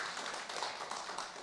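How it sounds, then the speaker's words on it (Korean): Church congregation clapping in a blessing round during a Korean Sunday worship service, a dense, fairly quiet patter of many hands filling the sanctuary without any voices. "축복의 박수 한번 해주시면 좋겠습니다"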